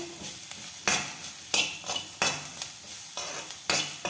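Chopped onion and a few curry leaves frying in a pan for capsicum curry, a soft sizzle broken by repeated sharp scrapes and clinks of a spatula stirring against the metal, with no talking.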